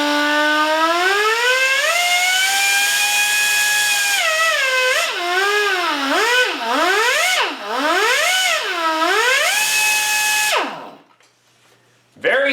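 An Aircat 1/2-inch stubby pneumatic impact wrench in power mode 3, its air motor whining as the trigger is feathered, pitch rising, falling and wavering before stopping; loud and close.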